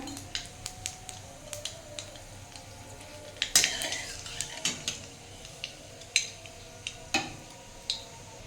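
Black cumin seeds crackling and popping in hot mustard oil in a wok, a scattered series of sharp ticks and small spits over a low hiss, close and fairly clear.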